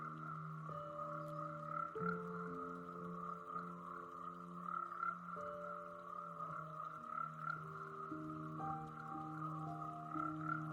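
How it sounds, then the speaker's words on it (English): Frogs calling in a tropical rainforest, several overlapping croaks and tonal notes repeating in layered rhythms over a constant high insect-like whine, fairly faint and with no voices. "The varying calls of these frogs serve as communication"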